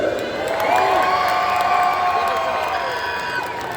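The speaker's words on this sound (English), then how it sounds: "By crowd applause, ladies and gentlemen, for the best trick" At a Monster X Tour monster truck show in an arena, a large crowd cheers and shouts continuously, with whoops rising over a steady roar of voices and some clapping.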